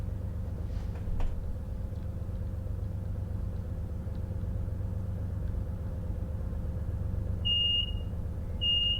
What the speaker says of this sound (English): Return the guard buzzer with Control B.